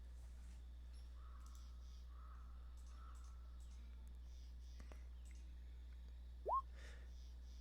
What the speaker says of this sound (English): You hear, the birds that you've been kind of listening to for the last few days.